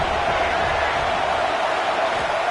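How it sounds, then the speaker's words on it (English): A dense football stadium crowd roars continuously and loudly on second down, a steady wall of cheering and noise with no pauses. "Crowd even louder now on 2nd down as they try to hold on."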